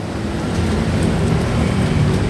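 Rain pouring outdoors at a street protest at Bangkok's Victory Monument, a loud, steady, close wash of hiss and patter with no voices over it.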